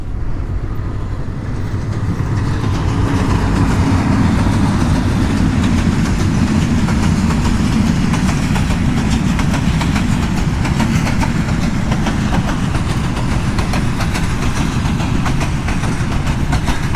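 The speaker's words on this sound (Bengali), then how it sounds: "ট্রেন যাচ্ছে।" A train passes close by near the India–Bangladesh border with a loud, continuous rumble and rapid clattering of wheels on the rails that holds steady throughout.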